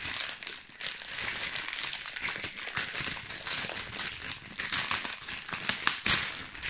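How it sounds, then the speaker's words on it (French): Crinkly plastic packaging is opened up close: continuous crumpling and crackling with sharp crinkles and a few brief tearing snaps, and no voices over it. "Je vais essayer d'ouvrir sans trop de bruit et de violence."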